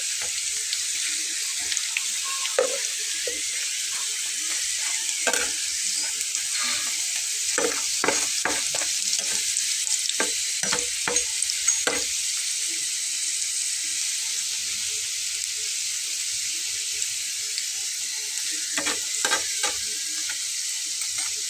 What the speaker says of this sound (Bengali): আমি আসলে একটু ডিপ ফ্রাই করবো, তো এইভাবে ভাজা হবে